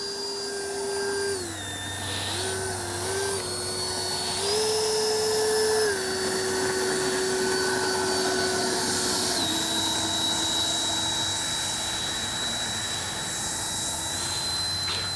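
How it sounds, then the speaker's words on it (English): An 80mm electric ducted fan on a Kavan Skyfox L-39 RC jet whines loudly and steadily, its pitch stepping up and down as thrust reverses, heard alone over a constant low hum. "Thrust reversing is very effective in this application."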